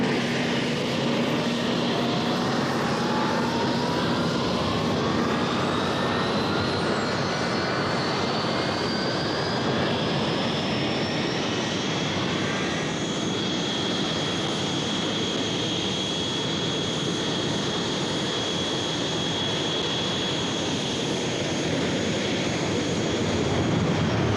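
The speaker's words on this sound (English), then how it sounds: "They took off from airfields in southern Argentina, equipped with Exocet missiles," Argentine Navy military aircraft, armed with Exocet missiles, taking off from a southern Argentine airfield and flying; a loud, steady engine roar fills the whole stretch, with a rising whine that shifts pitch as the plane passes.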